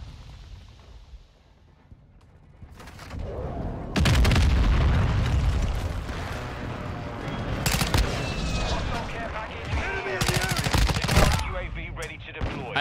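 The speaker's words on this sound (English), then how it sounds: "Enemy precision airstrike." Enemy precision airstrike in the shooter game Modern Warfare 2, heavy rumbling explosions and scattered gunfire building into a loud, dense barrage, with game voice lines and talk over it.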